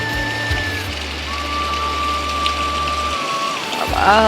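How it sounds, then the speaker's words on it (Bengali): Heavy rain heard beside a window makes a continuous wash of noise, joined by a steady low drone and thin whining tones, with a brief tonal burst near the end. "কি বৃষ্টি হচ্ছে আমার এই জানলা দিয়ে ভালোভাবে বৃষ্টি দেখা যায়"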